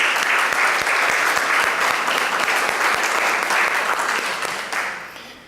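Sustained applause from an audience at a book presentation, a dense steady wash of many hands clapping at full strength for several seconds before tapering off at the end.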